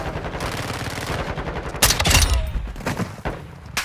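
A gun in Call of Duty MW2 fires in a quick burst of loud, close gunshots, then a couple of sharper isolated shots follow as the firing trails off.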